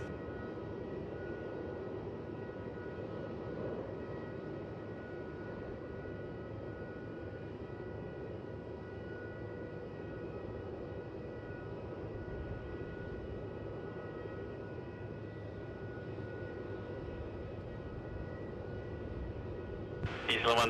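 Heavy jet airliners depart Melbourne Airport, producing a continuous low, distant engine roar that rumbles evenly for about twenty seconds before a brief sharper burst at the end.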